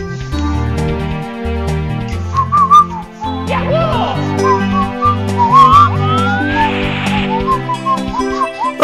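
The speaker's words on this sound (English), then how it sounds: "I was just whistling the Metal Cap song, because I love the Metal Cap song." A person whistles the Metal Cap tune from Super Mario 64, a clear, close, bright melody wavering over the game's music.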